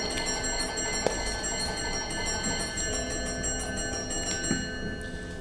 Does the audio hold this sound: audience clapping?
no